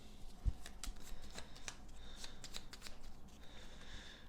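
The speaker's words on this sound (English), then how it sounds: "we'll shuffle these up" Playing cards for the Battlestar Galactica board game being riffle-shuffled, a soft continuous flutter of snapping card edges, close and fairly quiet, with no talking.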